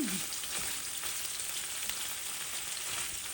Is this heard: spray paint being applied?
no